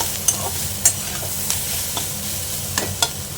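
Bitter gourd fries in a pan with a steady close sizzle, punctuated by several sharp scrapes and taps of a spatula stirring it.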